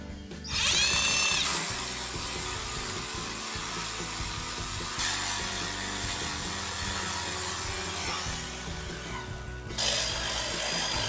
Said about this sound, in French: Soit vous percez le trou simple, soit vous percez dans le trou oblong.